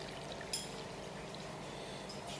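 Evaporated milk pours steadily into a bowl for chocolate steamed cake batter, a soft continuous liquid stream heard close and faint, with a couple of light clinks.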